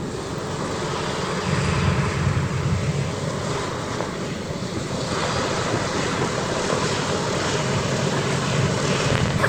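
A B-17G bomber's propeller engines drone steadily with a broad, rushing roar that stays loud and continuous throughout, blended with wind-like noise and no voices.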